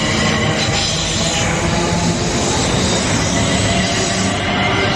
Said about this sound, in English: Fast train approaching.